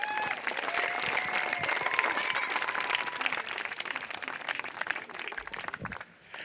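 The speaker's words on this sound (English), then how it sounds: "Big round of applause for Kevin Clark." Wedding guests at a reception break into a big round of applause for Kevin Clark, dense and steady with scattered cheers and voices, fading out near the end.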